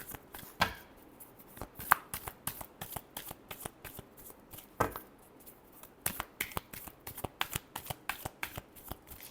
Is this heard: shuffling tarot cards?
yes